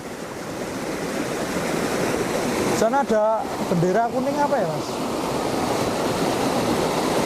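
A natural river runs over rocks with a steady, loud rushing wash throughout, while people talk over it partway through.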